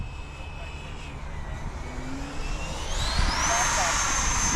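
A 90mm electric ducted fan F22 model jet going around under applied power, a steady whooshing whine that climbs in pitch and grows louder as it passes, with people talking beneath.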